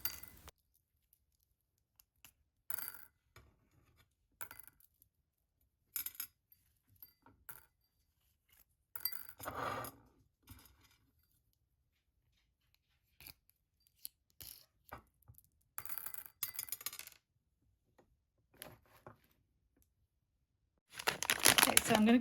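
Round glass beads for cherry earrings clatter and click in a sorting tray in scattered short bursts, some sticking before rattling loose, with quiet gaps between and a louder, denser rattle near the end.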